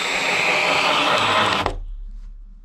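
Power drill driving a drywall screw into sheetrock, a loud continuous whirring drone that cuts off sharply at the end, followed by near silence.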